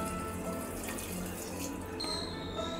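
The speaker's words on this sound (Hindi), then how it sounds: "अब हम छोले के अंदर 1 गिलास पानी डालेंगे" Water poured from a glass into chickpeas in a pressure cooker, a steady broadband splashing rush running throughout at moderate level, with a brighter trickle near the end.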